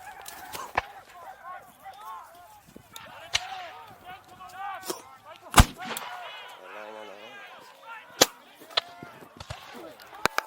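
Muskets fired at a reenactment of the Battle of Chase Farm, with sharp cracks scattered across the clip, one louder report in the middle, amid shouted commands and voices of the company.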